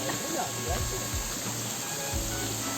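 A hidden waterfall reached along an untarred road in light drizzle gives a steady, broad rush of falling water close by, with faint voices now and then beneath the roar.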